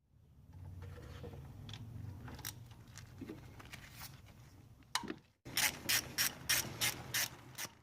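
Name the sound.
ratchet removing bolt on Kia Sorento timing cover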